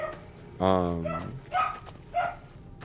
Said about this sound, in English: I don't know why my dog's barking so much, sorry.